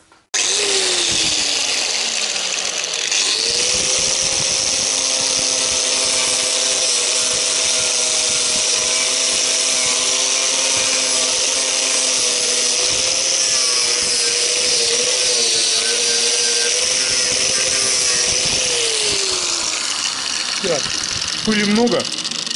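A rotary wire brush tool scouring a VAZ car oil pan, a loud continuous whirring grind that holds steady for about twenty seconds before spinning down, with a voice talking over it.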